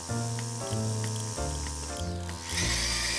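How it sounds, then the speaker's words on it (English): Cartoon gadget jigsaw cutting sound effect, a loud buzzing power-tool whine that steps up and down in pitch in choppy segments, ending in a harsher grinding burst, with no talk. "Go, go, Gadget Boy Jigsaw"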